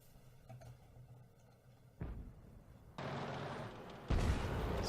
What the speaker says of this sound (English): it's the 203mm B4 howitzer that this Arty carries as a top gun